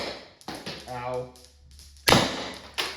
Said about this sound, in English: You could hear the hammer stutter there. That means she's out.